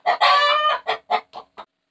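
Hens in a backyard laying flock give a loud drawn-out squawking cackle followed by a run of short clucks that trail off, close by with no talking.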